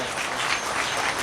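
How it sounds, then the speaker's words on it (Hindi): A short burst of applause at a Hindu religious recitation gathering, many hands clapping in a dense, steady patter, fairly distant and soft. "जोरदार तालियां एक बार और"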